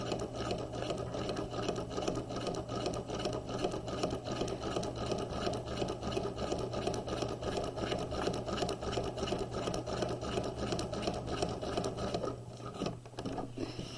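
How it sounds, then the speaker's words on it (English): A sewing machine runs a second row of stitching on a jacket sleeve, a steady continuous whirring drone close by that holds for most of the stretch before easing off near the end. "we're going to run a second row at 5/8 of an inch parallel to the first row that we stitched between the dots"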